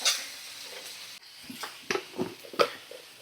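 Chopped tomato and brinjal sizzle in a frying pan as a spatula stirs them, a soft hiss punctuated by several scraping knocks and clinks, close by.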